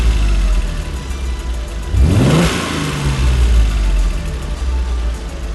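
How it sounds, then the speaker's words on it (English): An Alfa Romeo GTV6 3.0 V6 engine revs up nearby, a rising mechanical roar that swells sharply midway and then settles back to a steady run. "You hear that wonderful V6 start up."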